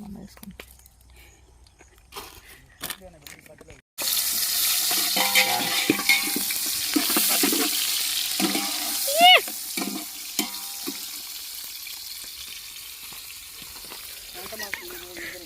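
Spices and ginger hitting hot oil and frying with a loud, steady sizzle from about four seconds on, stirred with scraping utensil sounds, after quieter clatter, while people talk nearby.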